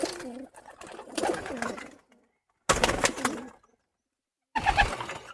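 Racing pigeons coo while drinking water, soft throaty calls in three separate bursts with short quiet gaps between them, close by and fairly loud.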